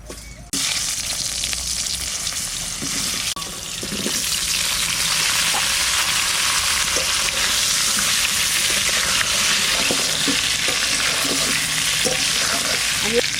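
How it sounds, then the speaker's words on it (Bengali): Potatoes sizzle and fry in hot oil in a pan just used for frying hilsa fish, a steady close crackling hiss that starts abruptly and continues unbroken throughout. "এবার আলু কটা দিয়ে দেবো একটু"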